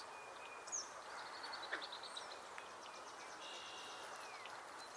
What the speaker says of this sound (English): Hold on, and a cardinal.